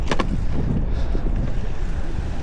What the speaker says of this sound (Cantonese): 好大風啊！